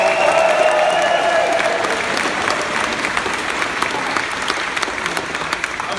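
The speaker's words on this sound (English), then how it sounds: "Let's give Senator Sanders a round of applause." Dense, steady applause from a large political rally crowd greeting Senator Bernie Sanders indoors, loud and continuous throughout with a faint cheer or whistle near the start.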